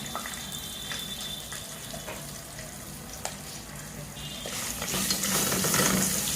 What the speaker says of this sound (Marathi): शेंगदाणे चांगली भाजायला द्यायचे